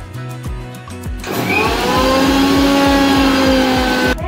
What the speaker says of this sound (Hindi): अभी मैं कॉफ़ी डाल रही हूँ इस बोल में एंड हमें चाहिए थोड़ी पाउडर शुगर तो उसके लिए मेरे को यहाँ पे मिक्सर में इसे ग्राइंड करना पड़ेगा